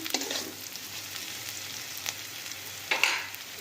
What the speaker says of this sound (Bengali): এবার লঙ্কাটাকেও আমরা অল্প ভাজা করে নিচ্ছি।